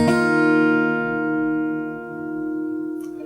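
A single chord rings out on a fingerstyle acoustic guitar, sustaining clearly and slowly decaying, alone.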